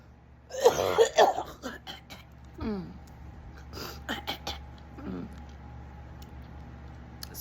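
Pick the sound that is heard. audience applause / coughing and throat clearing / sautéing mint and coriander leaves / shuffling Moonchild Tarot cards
coughing and throat clearing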